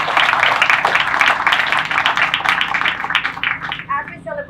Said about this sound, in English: let's give a round of applause for great partners today